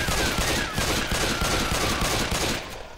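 Rapid gunfire in the video game Left 4 Dead 2 as players shoot the Witch, a dense, loud fusillade of shots filling the whole moment, easing off at the end.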